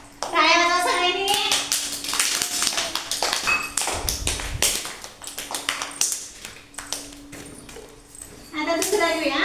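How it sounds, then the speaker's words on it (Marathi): A group of children claps in a village preschool classroom, a burst of uneven, overlapping applause lasting several seconds, with young voices speaking briefly before and after. "टाळ्या वाजवा सगळ्यांनी."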